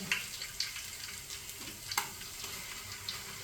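Duck curry masala sizzling and spitting in hot oil, a steady quiet crackle with a few sharper pops of splattering, no talk.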